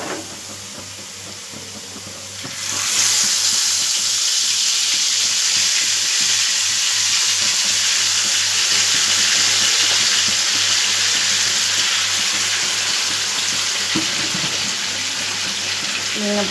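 Fish sizzles in hot oil on a dosa tawa, a steady loud frying hiss that jumps up in strength about three seconds in and holds on continuously without voices.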